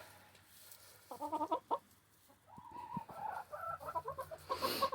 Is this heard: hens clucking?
yes